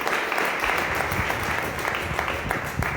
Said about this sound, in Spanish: denle un aplauso a Jesucristo